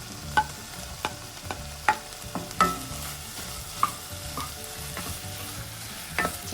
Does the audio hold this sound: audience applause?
no